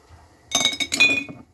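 Glass jars clinking against each other as they are lowered into a pot of hot water while making homemade passata, a run of close, bright clinks and knocks over about a second.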